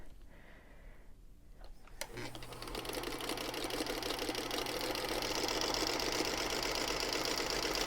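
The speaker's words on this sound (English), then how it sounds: "we're going to sew those together with our 1/4 of an inch seam allowance" After a soft click, a sewing machine starts up and runs steadily, stitching quilt strips together with a 1/4 inch seam allowance in a close, continuous mechanical whir that builds slightly in loudness.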